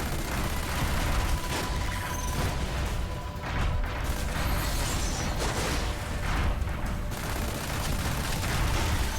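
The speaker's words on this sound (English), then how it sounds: "we got a machine gun that just shreds, basically" Machine gun fire in Red Faction: Armageddon, a dense continuous rattle of shots mixed with crashing debris and booms, loud and sustained with brief dips.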